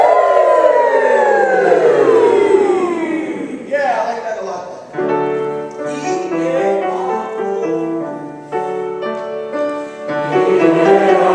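A choir in a rehearsal warm-up sighs downward together, voices gliding low like a siren, then settles into held, ringing chords that break off and resume. The voices imitate a siren.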